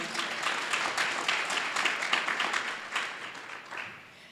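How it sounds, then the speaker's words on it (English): An audience at a school academic hall of fame ceremony applauding for a choir teacher, a dense wash of many hands clapping at moderate distance that holds steady and then tapers off toward the end. "let's give Miss Allen a round of applause."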